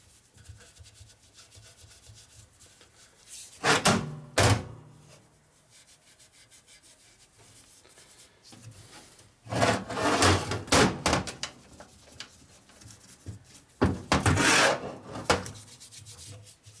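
Steel wool scrubbing the chrome swingarm of a 1972 Harley-Davidson XL Ironhead motorcycle, coming in several loud, rasping bursts of rapid back-and-forth strokes separated by quieter pauses.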